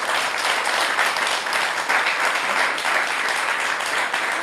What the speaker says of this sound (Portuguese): eu quero mesmo uma salva de palmas para o Arthur, que tem essa grandeza